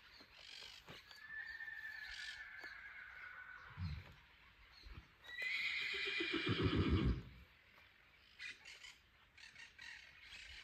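A tame chestnut horse whinnies loudly twice, with quieter rustling and a few faint thumps between the calls.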